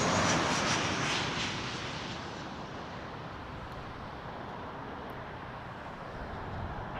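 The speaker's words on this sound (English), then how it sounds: "got a dash 8 lining up" Dash 8 turboprop at Toronto Pearson airport, a steady broadband engine roar heard from a distance, loudest at first and then settling into an even hum.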